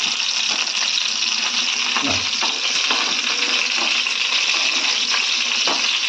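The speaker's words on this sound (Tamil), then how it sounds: "இன்னும் ஒரு நிமிஷம் வதக்கி எடுத்துக்கலாம்." Eggplant sautéing in oil in a pan for a Tamil ennai kathirikai dish, a steady, loud, close sizzle and crackle with occasional stirring scrapes and no talking.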